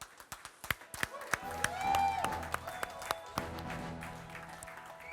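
Audience applause at an award show greets cricketers Yusuf and Irfan Pathan as they come on stage: scattered claps and taps, fairly faint, under background murmur and a few voices.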